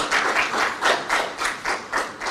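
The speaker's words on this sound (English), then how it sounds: "So I request you give a warm clap." An audience applauds senators at a Kenyan political gathering, a close, steady wash of clapping that pulses rhythmically in waves throughout.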